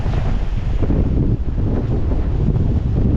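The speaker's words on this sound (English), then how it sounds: "So the wind is blowing towards me over this side, towards you guys." Strong gusty wind buffets the microphone at Palm Cove jetty ahead of a cyclone, a loud, steady roar with rushing surf beneath it and no talking.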